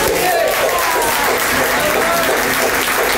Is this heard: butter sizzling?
no